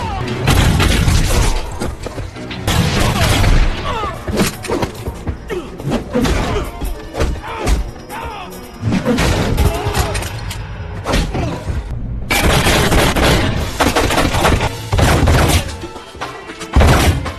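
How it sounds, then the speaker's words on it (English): Action-movie firefight as a cartel turns on a crew: loud, dense bursts of gunfire, heavy booms and crashing impacts come in repeated waves, with short lulls between. "firefight as the cartel turns on Armand's crew"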